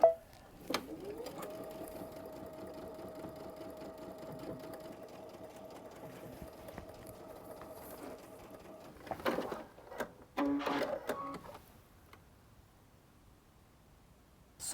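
A Brother sewing machine fitted with a MuVit foot sews serpentine stitches in a steady, even motor drone for several seconds, then stops, followed by a few short handling clicks and bursts.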